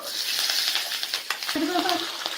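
Onions and curry leaves sizzling in hot tempering oil, a steady close frying hiss throughout with stirring clinks and scrapes toward the end.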